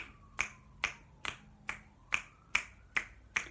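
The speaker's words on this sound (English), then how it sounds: "I like to snap my fingers" Crisp finger snaps, eight of them in a steady, evenly spaced rhythm, close and distinct against a quiet background.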